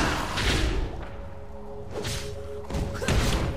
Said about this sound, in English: Diana's abilities are Crescent Strike